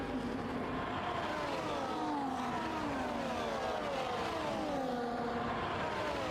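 Race cars in the F1 24 video game at the Brazil circuit, with a steady, moderately loud whine of engines rising and falling as several cars drive and pass, with no talk.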